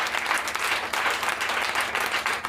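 A church congregation applauding during a Friday evening sermon, a dense, steady burst of clapping from many hands that fills the whole stretch without letting up.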